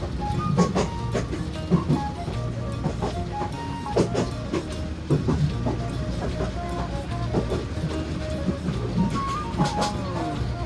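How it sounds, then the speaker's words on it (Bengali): A local train in Bangladesh runs along the tracks toward Mymensingh, with a steady rolling rumble and repeated rhythmic clicks and clacks heard from inside, as people talk. "ইতিমধ্যেই আমাদের ট্রেনটি ময়মনসিংহ স্টেশনে পৌঁছালো।"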